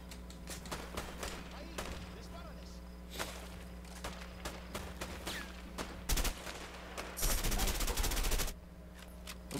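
Rapid gunfire crackles through a Mexican shootout in the video game A Way Out, with sporadic single shots building into a loud, dense burst near the end. A voice talks faintly beneath the shooting.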